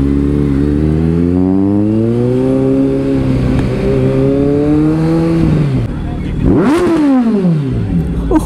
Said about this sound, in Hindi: भाई साहब भयंकर पावर देख रहे हो एग्जॉस्ट की।